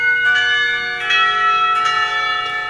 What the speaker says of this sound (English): that's a bell tower